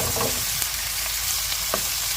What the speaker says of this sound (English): sauteing, steaming at the same time